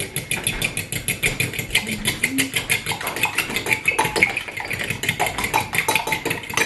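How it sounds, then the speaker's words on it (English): A fork whisks egg glaze for a Nigerian meat pie, beating quickly and steadily against the bowl in rapid rhythmic taps, close and fairly loud throughout. "I'm going to whisk it together"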